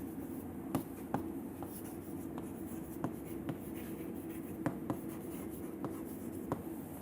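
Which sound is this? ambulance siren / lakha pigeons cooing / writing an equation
writing an equation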